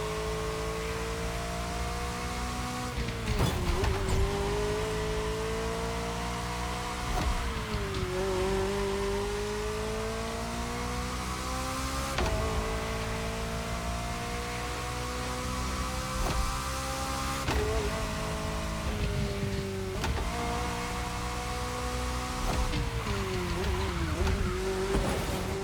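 A McLaren sports car engine in the driving game The Crew Motorfest, droning loudly with rising and falling revs and repeated gear-shift dips, while a narrator talks over it throughout.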